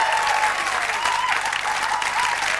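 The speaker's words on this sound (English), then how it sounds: "I think a round of applause." Studio audience applauding on a television lunchtime chat show, a steady, dense wash of clapping throughout with a voice talking over it.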